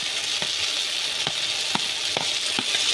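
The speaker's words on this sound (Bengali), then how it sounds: "এবার এর মধ্যে চিংড়িটা দিয়ে নেড়ে নিতে হবে" Shrimp dropped into hot spiced oil in a pan for an echor (jackfruit) prawn curry, with a steady loud sizzle broken by several sharp scrapes and knocks as the pieces are stirred.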